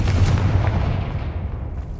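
Bombarda and Confringo spell blasts in Hogwarts Legacy, a heavy booming explosion with rumbling low-end roar that stays loud and dense across the whole moment before slowly thinning out.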